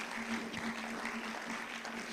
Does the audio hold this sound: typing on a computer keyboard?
no